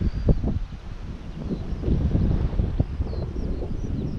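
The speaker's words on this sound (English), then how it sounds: "That's nice with the wind." Wind gusting outdoors in a park, a steady rushing buffet that swells and eases close to the microphone, with no talking over it.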